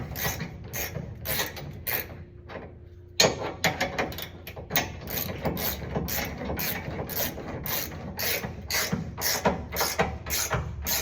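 Ratcheting wrench tightening trailer hitch receiver bolts on a 2013 Ford F-150 XL, a rapid train of close metallic clicks with short pauses, continuing steadily after a brief quiet gap.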